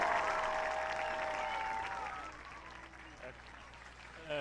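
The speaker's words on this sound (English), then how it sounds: "Let's give them all one more big round of applause." Football crowd at a Fairview High School halftime homecoming ceremony applauding the king and queen, a fairly distant, fading wash of clapping and cheering mixed with some voices.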